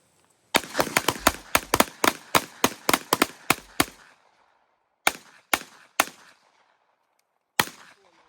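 Rapid bursts of fully automatic gunfire crack out loud and close, a dense string of shots for about three seconds, then a pause and four spaced single shots, and one last shot after another gap.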